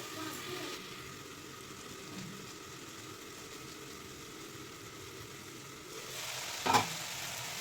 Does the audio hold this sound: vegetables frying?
yes